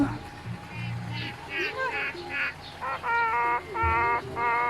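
A chicken clucks and calls in a run of short, nasal, honking bursts, with people talking underneath.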